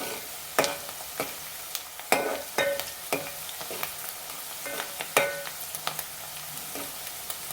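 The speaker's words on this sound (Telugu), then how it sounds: "వేగిపోతున్నాయి ఇంకొక హాఫ్ మినిట్ అయితే ఇలాగే వేయించుకోవాలి మధ్యలో మధ్యలో మంచిగా కలుపుకోవాలి" Food crackles and sizzles steadily in a pan while a utensil scrapes and clinks against it in irregular strokes, close and fairly loud, with no talking.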